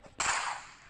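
A knife thrown in a Roblox game: one abrupt, sharp whip-like crack that bursts up loud and trails off in a hissing swish within a second.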